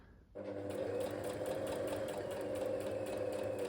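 A sewing machine runs steadily while stitching the hem of an embellished dress, a continuous close whirring motor hum starting abruptly after a brief pause and holding even throughout.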